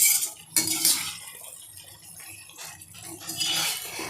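Chettinad-style mutton and boiled potato pieces are tossed and stirred in a pan, with metal utensils clattering and scraping in bursts and a light rattle between the strokes.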